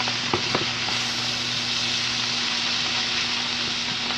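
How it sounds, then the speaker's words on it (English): Cabbage fries in a big pan with a steady, close sizzle, while a few light scrapes and knocks of stirring sound near the start. "we're gonna kinda stir some of that up from the bottom"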